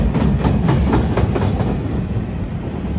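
A train passes close by with a steady, loud rumble and rhythmic clickety-clack of wheels on the rails, holding level throughout with no voices.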